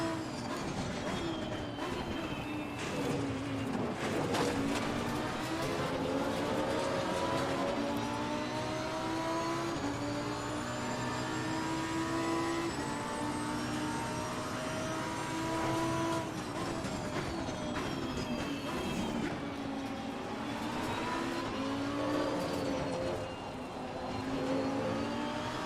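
Lamborghini Huracan Evo racing around Imola in Assetto Corsa Competizione, its engine a loud, steady roar that rises and falls through gear changes and corners, continuous for the whole stretch with no talk.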